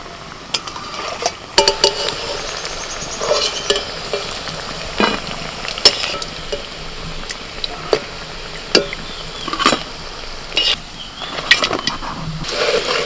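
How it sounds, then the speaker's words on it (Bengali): Banana flower dhoka cakes frying in a pan, a soft continuous sizzle with sharp spatula scrapes and taps at irregular moments, heard up close with no talking. "এক পিঠ ভাজা হয়ে গেছে, উল্টে দিলাম। এবার এরকম একটু লাল লাল করে ভেজে নিতে হবে।"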